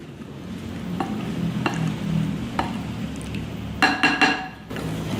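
A fish sauce mixture with coconut water is stirred in a container, soft swishing broken by several light ticks and a quick burst of clinking utensil strikes near the end; no one speaks.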